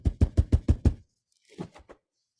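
Six loud, heavy, evenly spaced knocks hit a door in quick succession, police-style, followed after a short pause by a few fainter, looser knocks.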